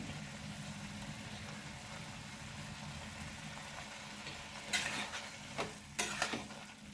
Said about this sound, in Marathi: याला पाच ते सात मिनिट छान परतून घ्यायचं आहे